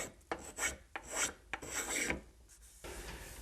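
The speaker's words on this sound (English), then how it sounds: "I'm now going to use a spoke shave, which is the traditional tool for cutting or curving small items of pieces of wood." Spokeshave shaving a small curved wooden piece to clean off bandsaw marks, heard as a series of close, rasping strokes, each a short scraping burst with brief pauses between.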